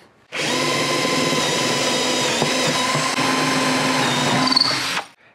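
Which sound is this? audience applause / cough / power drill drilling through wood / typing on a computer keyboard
power drill drilling through wood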